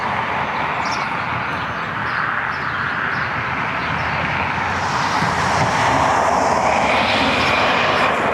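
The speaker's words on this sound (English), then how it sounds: "Out to my left, we have American Airlines Flight 650 737 MAX out of Los Angeles inbound." An American Airlines Boeing 737 MAX jet arriving at Cleveland Hopkins Airport produces a broad, steady roar that swells gradually and brightens toward the end as it draws nearer, heard outdoors with no talk.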